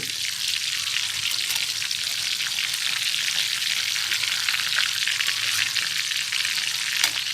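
Coated chicken pieces deep-frying in a pan of hot oil give off a dense, continuous hiss and fine bubbling crackle, steady and close for the whole stretch with no voices.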